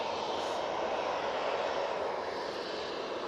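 A Ryanair airliner on its landing at Manchester Airport gives off a sustained, even engine roar, moderately distant and unbroken for a few seconds.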